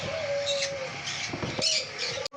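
Pet lovebirds and sun conures at a bird shop give short chirps and a sustained whistled call, with several calls overlapping against a busy background.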